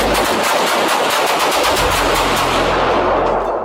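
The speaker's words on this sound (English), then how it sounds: "A scuffle turns into gunfire, leaving the suspect down and an officer grazed by a bullet." A dense, continuous burst of rapid automatic gunfire during a police scuffle with a suspect, loud and close, rattling without pause throughout.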